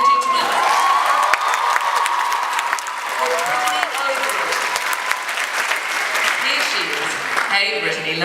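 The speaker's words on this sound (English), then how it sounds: "A round of applause, please, ladies and gentlemen." A crowd applauds and cheers a performing group on stage, with sustained loud clapping, whoops and shouts from the audience and some children's voices over the noise.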